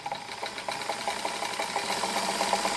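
A Kenmore model 52 sewing machine stitches a close satin stitch, a steady rapid mechanical whirr with a fast rhythmic tick of the needle, close and fairly loud.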